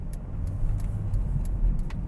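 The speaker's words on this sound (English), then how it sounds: "So now I'm going to use the engine" A Mercedes plug-in hybrid car runs on its engine, a steady low rumble from inside the cabin, with faint periodic ticks repeating above it.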